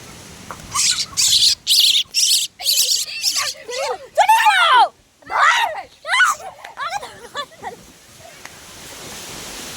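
Baby birds squawk outdoors during a storm, giving a run of sharp, rising chirps and cries between loud bursts of gusty, rushing noise; the calls come in quick clusters, fairly close.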